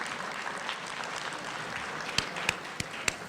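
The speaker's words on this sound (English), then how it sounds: "round of applause" Round of applause from the audience at an evening business networking event, a steady wash of many hands clapping with a few sharper claps standing out near the end.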